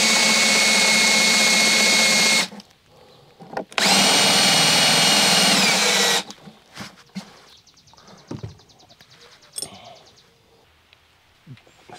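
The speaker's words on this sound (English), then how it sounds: "So I am gonna have to kind of bore this out just a little bit." A power drill bores out a hole in a part for a homemade disc golf cart, whining loudly in two long bursts separated by a pause, then giving way to quieter clicks, taps and handling noises.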